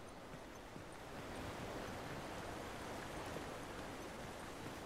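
A waterfall in The Last of Us Remastered rushes as a steady, broad, soft roar of falling water.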